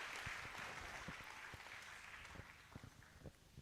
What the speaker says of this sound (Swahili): Chape makofi juu ya Bwana.